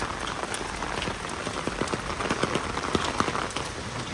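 Heavy rain pours down onto the streets of Lviv, building into a downpour, with a dense, steady hiss of drops spattering on hard surfaces and close, irregular splashes throughout.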